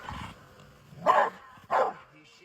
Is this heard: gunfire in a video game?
no